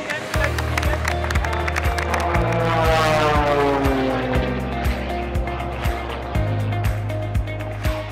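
A stunt plane's engine drone rises and passes overhead at an outdoor facility opening, with a clear pitch sweep as it flies by. Music plays underneath.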